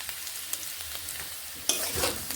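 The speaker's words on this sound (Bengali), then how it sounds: "নুন মিশিয়ে এইভাবে নেড়ে আলুগুলোকে ভেজে নিচ্ছি" Salted potato pieces being stirred and fried in a pan make a soft, steady sizzle broken by scraping stirs, with a louder burst of frying near the end and no talk.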